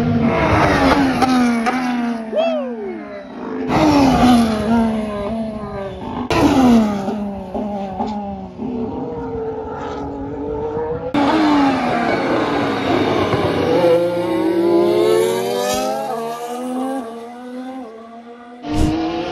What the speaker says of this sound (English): these cars are super loud